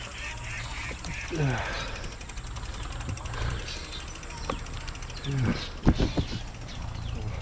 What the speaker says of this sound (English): there's a bird right there, squawking away